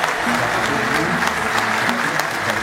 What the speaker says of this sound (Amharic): እግዚአብሔርን በጭብጨባ እልልታ